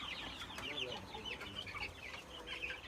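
Chickens cluck continuously at a farm, a busy layered chorus of fowl calls at moderate distance over a low background hum.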